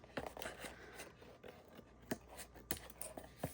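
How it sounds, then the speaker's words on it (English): Scissors snip through paper while cutting out a piece for a lapbook art journal cover, a handful of separate quiet cuts spaced irregularly, close by with no talking. "I'm going to cut out this piece."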